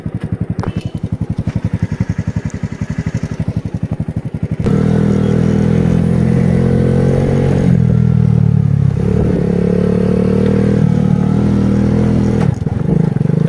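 A TVS Star City Plus motorcycle on a test ride after repair: a steady putter of the idling engine, then a louder sustained drone as it pulls away in gear, with faint rattles along the way.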